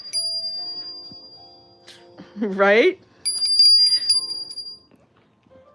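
A small bell, kept in a New York City apartment, rings with a bright sustained tone and then rings again a second later, each ring lingering. A person speaks briefly between the two rings.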